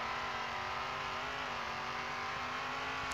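In Demolition Derby 3, a Buick GSX engine drones and revs steadily at a constant loud level with no pauses, alone without talk.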